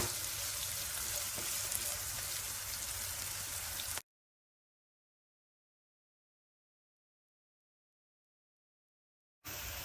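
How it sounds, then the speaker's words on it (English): Onions sautéing in a pan over a raised flame for vegetarian bolognese, a soft steady sizzle for about four seconds, then a long gap of silence before the frying returns briefly at the end. "You have to saute onions."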